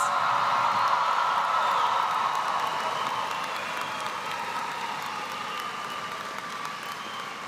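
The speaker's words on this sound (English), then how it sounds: "Give them another round of applause." Sustained applause from a large crowd honoring the 2023 graduates at a spring commencement ceremony, steady dense clapping that fades slightly over the stretch, with no voices over it.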